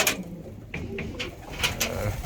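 Pigeons in a coop, a male chasing a female, give soft repeated cooing calls and brief wing or movement sounds, close and fairly steady over low background noise.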